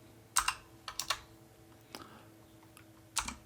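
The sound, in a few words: typing on a computer keyboard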